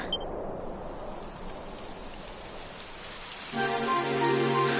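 Rain falls in the video game Dragon Quest XI as a steady hiss of rain on surfaces, and a sustained musical tone enters near the end.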